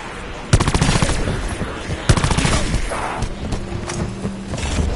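Heavy cannon-style gunfire from a Black Ops 4 zombies video game, loud bursts of rapid shots starting about half a second in and again near two seconds, with the game's machinery and action clatter continuing between them.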